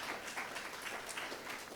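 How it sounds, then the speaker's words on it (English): Audience at a Words Aloud 2023 poetry reading breaking into light, scattered applause between poems, soft and steady clapping heard from a distance. "You don't have to clap in between."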